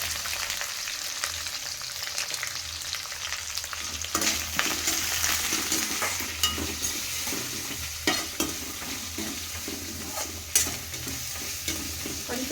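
Curry leaves and asafoetida crackle and sizzle in hot oil for puffed-rice upma, a steady close frying hiss broken by sharp spattering pops and occasional spoon scrapes as it's stirred, with no talking.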